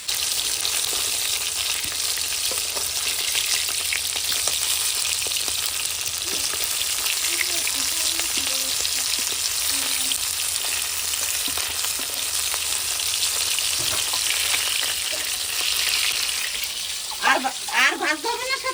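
Koi fish frying in a pan over a home stove, a dense, steady sizzle of hot oil that holds loud throughout, with clattering and stirring sounds near the end.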